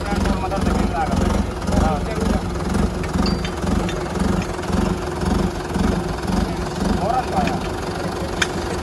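A Mahindra 585 or Arjun 605 tractor runs with a steady, close diesel thrum at an even rhythm throughout, while people talk over it.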